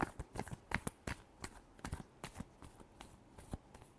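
Tarot cards shuffled by hand in quick irregular bursts of soft papery riffles and taps, close and fairly quiet, with no voices.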